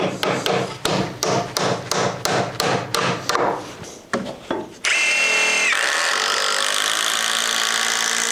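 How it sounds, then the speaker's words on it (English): Bugle screws driven into a timber joist with a power drill, a close, loud series of rhythmic ratcheting bursts that stop, followed by a steady high whine of another tool running on. "I'm going to be going through with bugle screws and screwing this to the existing joist"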